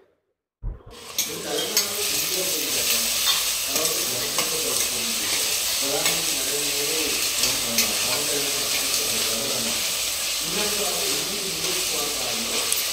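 Onions sizzle steadily in a hot pan for a mutton curry, with a constant frying hiss punctuated by stirring scrapes and occasional louder spatters, close and continuous throughout.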